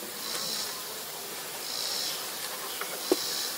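Honey bees hover around a Langstroth beehive in a faint, steady buzz, with a few soft ticks and one small sharp click near the end.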